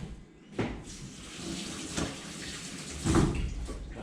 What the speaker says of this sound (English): So now we're just going to give us a quick rinse under the tap.